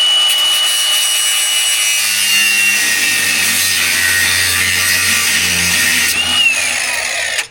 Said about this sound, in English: So I'm gonna grind this up so it's ready to be finished